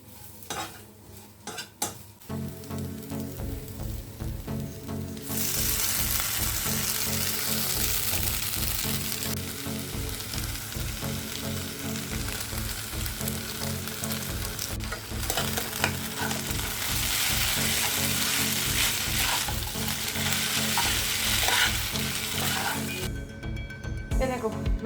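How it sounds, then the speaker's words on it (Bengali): Vegetables being fried longer until soft for Maggi chow mein, loud continuous sizzling with busy scraping and stirring of a utensil in the pan, close and persistent throughout. "যে কারণে আরও বেশি করে ভাজতে হচ্ছে"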